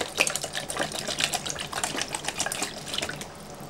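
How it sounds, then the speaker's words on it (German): Water poured into a cooking pot while preparing a ground meat and vegetable stew, a steady close splashing trickle with fine rapid spatter, fairly loud at first and easing slightly toward the end. "Ich mache das Wasser erst hier rein."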